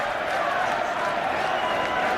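Crowd at the 2019 Cricket World Cup final, spectators and debenture holders in the stands applauding and cheering, a dense, steady roar of clapping and shouts held throughout.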